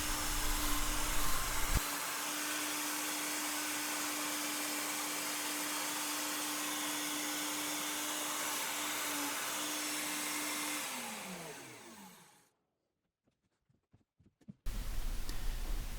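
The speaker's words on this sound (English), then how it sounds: "Use a pecking motion to bore into the face of the workpiece about 1/4 inch, then pull back to clear the chips" A PantoRouter bit bores into the face of a wooden workpiece with a pecking motion. The motor whines loudly and steadily, winds down, goes silent for about two seconds, then roars back up.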